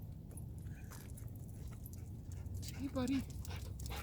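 A friendly dog being greeted indoors gives a brief whimper and soft panting around the three-second mark, heard under a person talking to it.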